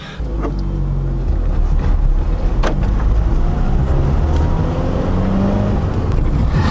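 Steady engine and road noise from a 2011 Ford Figo petrol hatchback under way, a continuous low drone with tyre rumble heard from inside the cabin, no talking.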